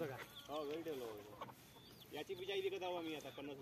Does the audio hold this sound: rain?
no